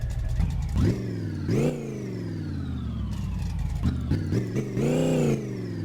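A video game car engine revs repeatedly, rising and falling in pitch with several sharp throttle bursts, loud and close with no talking.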